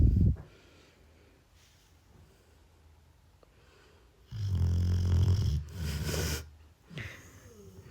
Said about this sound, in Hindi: इसके खर्राटे सुनिए कैसे सोती है ये।